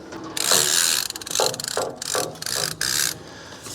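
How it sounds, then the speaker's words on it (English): A ratchet strap winch being wound after its slack is reeled in, giving loud, close bursts of rapid clicking in several separate spells with short pauses between, no voices. "Now I gotta just press this button, pull up my slack, it'll reel it in for you, and then just go to wind it"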